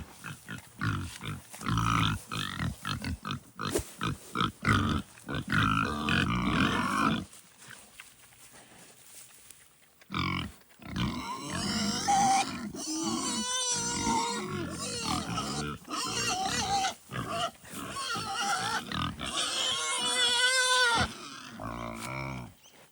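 Pigs grunt, snort and squeal in a noisy close-up chorus, with a brief lull before the loud oinking resumes.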